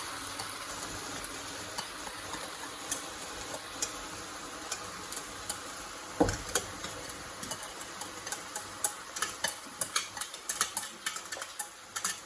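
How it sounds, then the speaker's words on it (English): A creamy pasta sauce stirred through a vegetable mixture in a pan, heard as soft scraping and gentle sizzling close by, with light clicks of a utensil against the pan growing more frequent toward the end. No one speaks. "And then stir it through."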